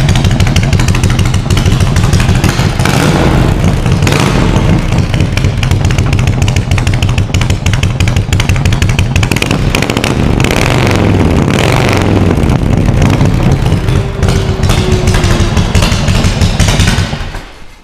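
A personal motorcycle that had sat unstarted for months idles loudly and steadily right after firing up, with a rough, throbbing rhythm and a brief rev, heard close with no talking.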